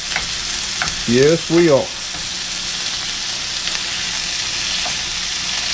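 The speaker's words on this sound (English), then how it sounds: "Hear the sizzle." Ground beef frying in a pan for old-fashioned hamburger gravy, a steady bright hiss and sizzle throughout, with a brief spoken reply near the start.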